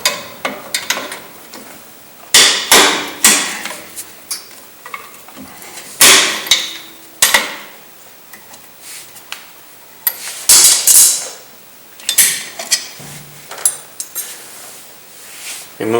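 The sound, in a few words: removing metal brake parts, Chevy S10 rear drum brake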